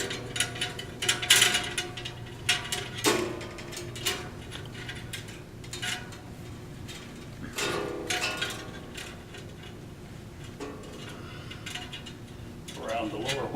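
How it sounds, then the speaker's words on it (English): A bandsaw blade is fitted around the saw's wheels with irregular metallic clinks, rattles and ratcheting clatter, in scattered bursts separated by quieter gaps. "So now I'm going to put the blade on."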